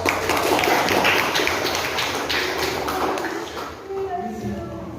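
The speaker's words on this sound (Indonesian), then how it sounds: "Tepuk tangan untuk kelompok." A classroom group gets a round of applause: many hands clap in a dense, even patter that fades toward the end, with voices of students and a teacher around it.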